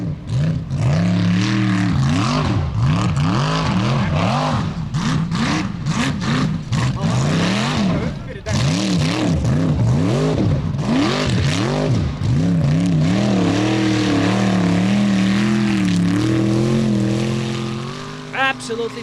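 Formula Offroad racing cars roar through a time attack run in Akureyri, Iceland, their engines revving hard and loud with rapid rising and falling pitch sweeps as they climb and shift, a commentator talking over the noise.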